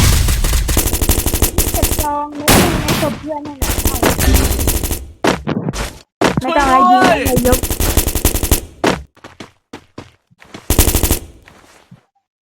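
Gunfire in the video game Free Fire: repeated bursts of rapid automatic fire, loud and close, broken by short pauses, with brief voice sounds in the gaps and a few sparser shots toward the end.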